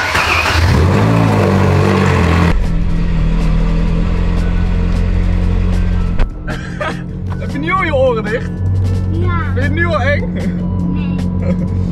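A car pulls away and accelerates, its engine revving and humming loud and steady throughout, with voices talking over it in the second half.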